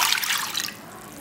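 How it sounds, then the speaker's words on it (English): Water pours into a cooking pan as the outer dough for steamed modak is started, giving a brief, bright splashing rush that is loud at first and then tapers off, with no talk. "For that, in a pan add water,"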